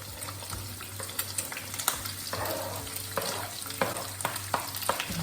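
Red peppers sizzle in a pan with bacon, a steady close frying hiss broken by repeated sharp crackles and spatters, and no voices.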